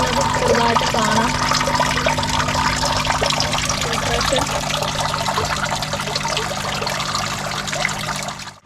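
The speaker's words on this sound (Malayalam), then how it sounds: "നമുക്ക് ഇനി നമ്മുടെ ഈ ഫിൽറ്റർ ഒന്ന് ഓഫ് ചെയ്യാം" A koi fish tank filter running with a continuous trickle and splash of falling water, steady and close, with a low hum beneath and a voice briefly audible near the start.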